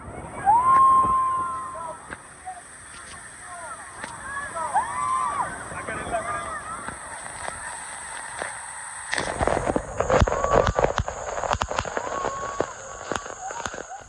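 Niagara Falls pours down nearby, a constant broad roar and hiss filling the background while people talk and call out over it, with a burst of louder splashing spray partway through.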